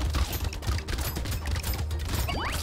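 Enemies fire volleys of shots in the top-down arena game Brotato, a rapid, dense patter of small gunfire bursts layered over a low, booming game soundtrack, continuous throughout.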